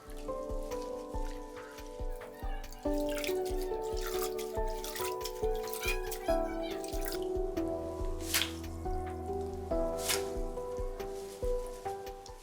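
Water trickling and dripping while mint leaves are washed for an Ottoman sherbet recipe: irregular close drips and splashes continuing steadily with light clinking, no voices.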